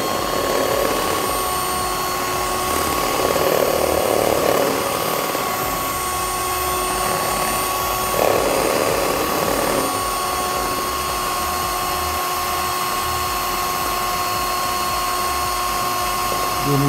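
A Vruta Scarlett England hand blender whisking at full speed, its beaters catching the bottom of the bowl, gives a steady, loud, high whine with rattling scrape throughout and no talk.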